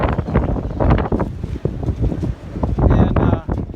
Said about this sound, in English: it's very, very windy out today.